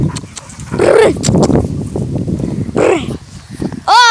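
A dog barks and growls close by in a rough, loud outburst amid general commotion and movement, with a brief harsher call near the end.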